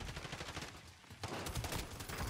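Rapid gunfire crackles throughout a Battlefield match, dense overlapping shots and bursts that thin briefly mid-clip, then return louder and fuller as a fresh volley of automatic fire erupts.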